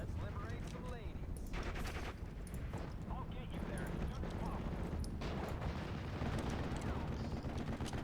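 Sustained automatic fire and battle noise from the WWII strategy game Steel Division: Normandy 44, dense bursts of gunfire rolling continuously under a talking voice.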